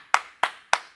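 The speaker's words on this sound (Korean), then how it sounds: "주님께 큰 박수" Three sharp, evenly spaced claps ring out close and loud at a worship event honoring the pastor, each a single crisp hit with no talking.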